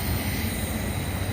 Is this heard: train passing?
yes